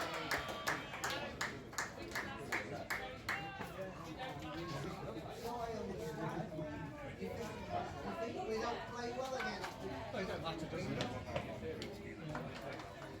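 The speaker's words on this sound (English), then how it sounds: "I sat myself down amongst the Hucknall supporters in the main stand, with a decent crowd starting to gather" Crowd of football supporters gathering in the main stand at a Hucknall Town versus Bottesford Town FA Cup qualifying match, heard as a continuous murmur of chatter with scattered claps and thuds, with a voice talking over it.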